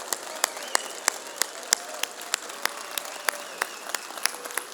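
An audience of moms at a Clinton Township church gathering applauds steadily, a continuous wash of clapping with sharper individual claps popping out near and clear throughout.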